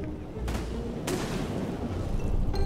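Explosions in the naval battle game Besiege: The Splintered Sea boom out, two sharp blasts over a rumbling, noisy backdrop of gunfire, loud and close.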